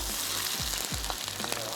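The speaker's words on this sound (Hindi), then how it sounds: "और थोड़ा सा हम इसको भूनेंगे जब तक कि इसका कलर चेंज नहीं हो जाता।" Chicken sizzles and fries in a pan with garlic ginger paste, a steady close crackle broken by a few low scraping stirs.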